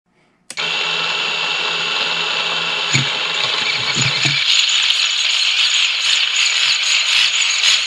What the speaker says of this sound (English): Now we just bolt the motor back on.